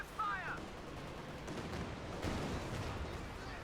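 Artillery barrage in Company of Heroes 2: a dense, steady wash of rumbling gunfire and muffled booms runs throughout at moderate loudness, with a few heavier thumps rising out of the noise.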